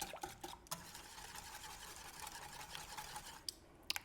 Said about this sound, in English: I'm just using a whisk, a hand whisk